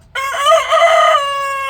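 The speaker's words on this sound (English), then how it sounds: "we found out it was a rooster" A young rooster found as a stray chick lets out one loud, close crow that rises, holds and tapers over about a second and a half, with no other sounds around it.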